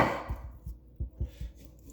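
A blunt, weighty knife swung like a cleaver chops food on a board, giving several separate dull thuds in an uneven rhythm, close and moderately loud, after a brief louder opening knock.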